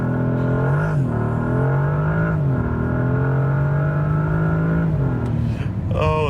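A 2025 Bentley Continental GT Speed, a 771 hp hybrid, launches hard off a stop sign after brake-torquing, its engine note climbing loud and steady through several gear changes, near and continuous throughout.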